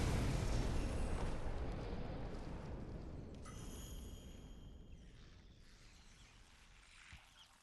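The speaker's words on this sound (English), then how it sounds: "Explosion!" An explosion in Sekiro: Shadows Die Twice starts with a loud, close, deep boom that rumbles and slowly fades over several seconds, with no talk.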